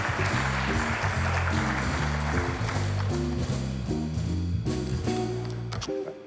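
A studio audience on a local morning TV show applauds guest Indian, a broad steady wash of clapping under a loud, repeating musical sting that fades slightly at the end.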